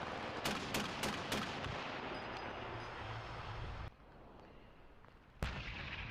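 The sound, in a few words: missile being fired in a video game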